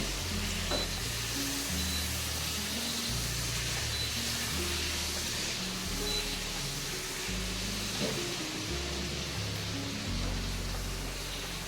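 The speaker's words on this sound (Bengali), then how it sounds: "পার্শ্বের মাছ ভাজতে গেলে আমার মাছের ছাল চালটা উঠবে না" Pomfret fish frying in a pan, a dense continuous sizzle with a steady hiss and low rumbling underneath, close and even throughout, with no talking.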